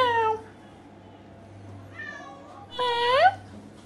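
A man mimics a cat with repeated meows in a played clip, three short rising, harmonic calls separated by pauses, with a steady low hum beneath.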